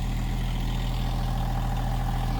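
A tractor engine idles steadily on an off-grid homestead, with a low, even rumble that runs unbroken throughout. Nobody speaks over it.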